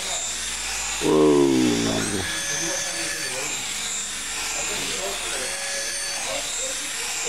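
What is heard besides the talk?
motor of a $19.95 flying toy switched on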